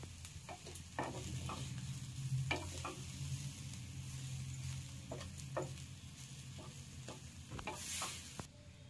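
Sugar and grated coconut filling is stirred in a pan, with repeated scraping strokes and clicks of the spoon over a soft sizzle, close and fairly quiet.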